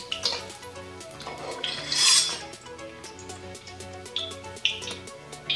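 Paneer being stirred and lightly fried in a kadai, with scattered metal clinks and scrapes of a spoon against the pan over soft background music, a few louder clatters standing out.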